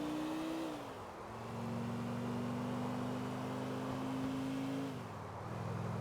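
Engine of a Starion car in Grand Theft Auto IV, revving and holding a steady drone with pitch shifts as it accelerates and eases off.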